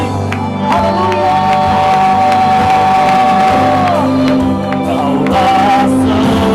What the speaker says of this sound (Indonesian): Mari berikan tepuk tangan sorak-sorak yang terbaik.